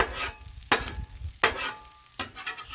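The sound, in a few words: scraping pancake residue off a Blackstone griddle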